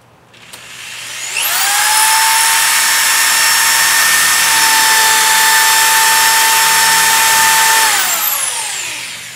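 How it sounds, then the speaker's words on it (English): A power drill bores the first hole into a wall while a rolling shutter is being installed, a loud close whine that spins up, holds steady for several seconds, then winds down. "We're going to go ahead and drill the first hole out now in the wall."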